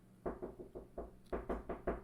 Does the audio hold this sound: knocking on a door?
yes